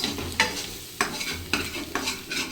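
Egg curry with chili powder being stirred in a pan, four regular scraping strokes roughly every half second over a low sizzle, close and moderately quiet.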